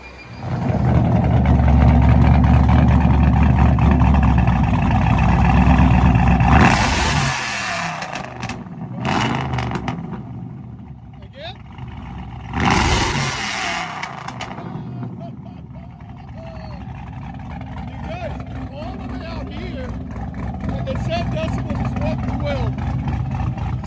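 A Camaro fitted with a modified exhaust roars at high revs for several seconds, drops off, then flares again in a shorter burst before settling into a steady, loud idle rumble, with people talking over it.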